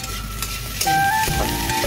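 Potatoes with green chillies frying in a pan, stirred now and then, give a steady close sizzle with scraping strokes of the spoon through the hot oil.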